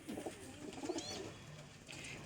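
Pigeons kept by a hobby breeder coo softly at close range, a few low rolling coos over a quiet background with faint chirps.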